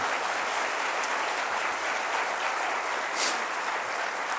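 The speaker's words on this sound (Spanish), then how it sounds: "Dale un aplauso." A church congregation breaks into sustained applause, a dense, even wash of clapping from many hands that holds steady throughout, with no voices standing out.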